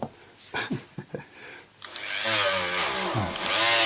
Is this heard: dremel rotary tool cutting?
yes